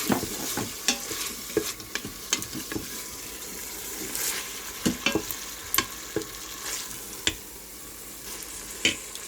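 Beef sizzling and being stirred in a pan for beef stroganoff as Worcestershire sauce goes in, a steady frying hiss broken by sharp scraping and stirring clicks, fairly quiet.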